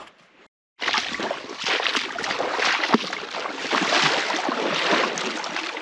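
Wind buffeting and water washing against a small carp-fishing boat, a steady rough rush that starts after a brief silent moment.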